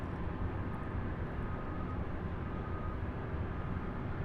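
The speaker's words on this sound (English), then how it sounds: "This here, UPS 2921, arriving here after a 3-hour and 22-minute flight." A UPS cargo plane, flight 2921, arrives at Louisville International Airport beside the UPS Worldport, its engines a steady, distant rumbling roar that holds even throughout.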